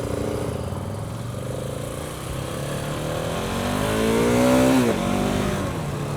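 A KTM 690 Enduro R dirt bike engine runs at a steady idle, then revs up in a rising whine that peaks and drops back down. The engine sounds close and there is no talk.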